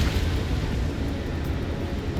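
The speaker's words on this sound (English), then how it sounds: "Okay, I got that explosion." A sustained explosion rumbles through a combat flight in Ace Combat 7, a dense, continuous roar that stays loud and steady throughout, with no talk over it.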